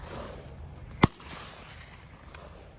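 A single 12 gauge shotgun blast fired at an outdoor range, one sharp loud crack standing out against steady low background rumble and no talk.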